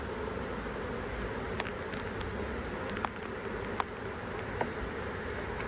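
A low, steady hum of many honey bees buzzing close together around a hive, with a few brief sharper buzzes of individual insects passing near.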